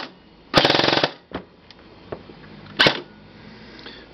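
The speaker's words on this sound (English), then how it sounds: "This is full." A King Arms airsoft gun with an Infinite Torque motor and an 11.1 V LiPo battery fires a loud, rapid half-second full-auto burst. A few faint clicks follow, then a second short, sharp shot.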